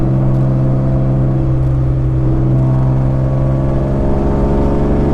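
A BMW E36 M3 race car drives along back roads, its engine giving a steady loud droning rumble from inside the cabin for the whole stretch, with no talk.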